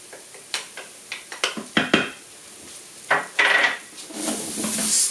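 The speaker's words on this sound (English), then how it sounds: "Stir that up a bit." A utensil stirs tomato paste and harissa in a cooking pot, making a run of close, irregular clinks and scrapes against the pot, with a soft sizzle swelling near the end.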